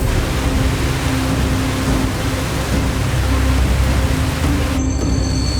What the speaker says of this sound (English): I was greeted by heavy rain.